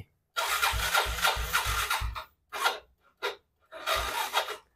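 An old motorcycle engine is kick-started, giving a long rough burst of sputtering engine noise followed by several short coughing attempts separated by pauses.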